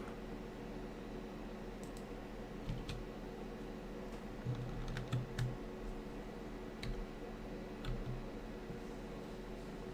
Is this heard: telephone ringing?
no